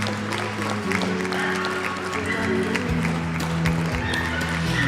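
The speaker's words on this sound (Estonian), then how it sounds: "teeme aplausiga" A crowd applauds steadily throughout at a children-and-dogs competition award ceremony, a dense wash of clapping with faint background sounds.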